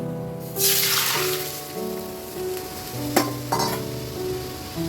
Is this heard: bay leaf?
yes